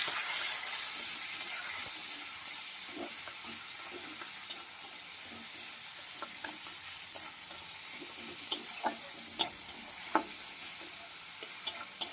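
Tomato with salt and turmeric cooks down in a pan: a bright hiss that eases after the first seconds, dotted with sharp spatula taps and scrapes, near and unaccompanied by talk.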